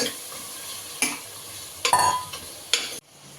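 Mutton bones are tipped into a hot pot and stirred, with a few sharp clattering scrapes of a utensil over a soft, steady sizzle, close up, before the frying sound cuts off abruptly.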